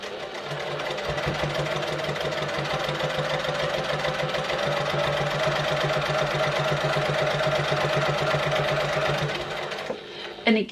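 A sewing machine runs a quarter-inch seam on a fabric clutch wallet, with a fast, even stitching chatter that lasts about nine seconds before it stops and stays quiet.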